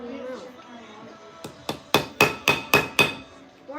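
A small hammer striking in a quick series of about seven sharp, close blows, building into a steady rhythm after some faint talk at the start.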